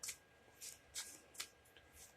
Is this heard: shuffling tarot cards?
yes